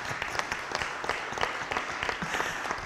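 A church congregation bursts into applause during a sermon, with many hands clapping in an irregular, crackling round that holds steady throughout at moderate loudness.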